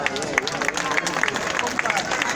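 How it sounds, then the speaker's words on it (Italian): Audience clapping greets the bachata dancers Diego and Letizia at a summer dance show, a steady wash of applause with crisp individual claps and faint crowd murmur throughout. "accogliere con un grande, grande applauso Diego e Letizia Divisi"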